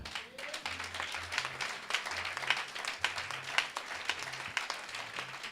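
A church congregation claps and applauds in praise of the Lord, a dense, continuous patter of many hands at moderate distance, with a faint low hum and occasional voices underneath.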